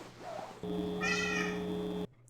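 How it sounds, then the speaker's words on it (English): A pet cat lets out a drawn-out, loud meow close by, with a low purring hum beneath it, the sound stopping abruptly; no talking. "if you hear random purring in the back of this video"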